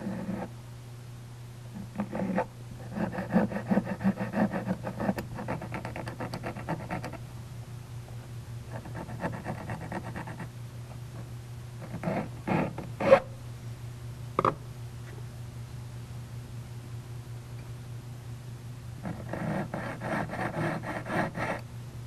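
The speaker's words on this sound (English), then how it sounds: "The shape is then achieved through the use of a saw and files." Close, rhythmic rasping strokes of a saw and files shaping metal, in several bursts separated by pauses and a few sharp clicks, over a steady low hum.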